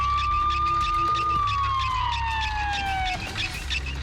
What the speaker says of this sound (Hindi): हे एम्बुलेंस, जल्दी आओ।